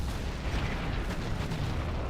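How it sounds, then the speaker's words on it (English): A scud launcher firing in a real-time strategy video game, heard as a steady, dense roar of rumbling blasts and booms filling the mix for a couple of seconds, without speech. "There's also a scud launcher, so you can clear this."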